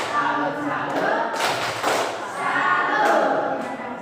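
Classroom group joins in a rhythmic 'tepuk salut' clapping cheer for a teacher, steady patterned claps and thumps filling the room, loud and continuous with voices mixed in.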